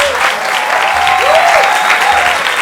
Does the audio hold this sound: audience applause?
yes